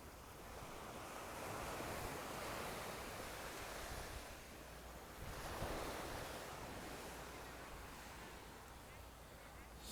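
Waves wash onto Casa Marina Beach in Sosua, a faint, broad rushing surf that swells and recedes in slow surges, mixed with wind noise and no clear talk.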